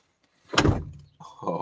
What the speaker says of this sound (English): the door will probably close now